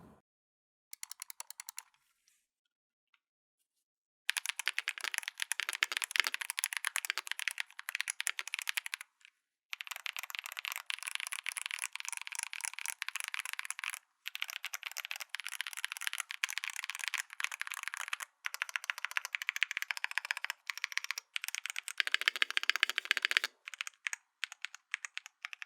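Stock Huano Banana switches on an Ajazz mechanical keyboard fitted with GMK Cherry profile keycaps, typed on in close, dense bursts of crisp clacky keystrokes with a few brief pauses, no voices.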